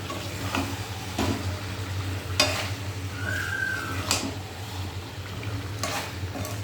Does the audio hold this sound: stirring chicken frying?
yes